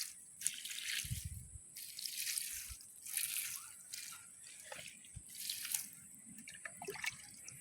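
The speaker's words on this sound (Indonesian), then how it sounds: "Oke, kita coba siram lagi." Water poured onto a homemade compost pile being turned for decomposition, heard as a steady splashing trickle with broad hiss in repeated surges and a few soft low thuds, close and moderately quiet with no talk.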